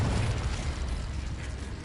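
Confringo fire spell blasting in a Harry Potter video game, a short dense burst of crackling, rumbling noise that fades slightly over under two seconds, with no talk.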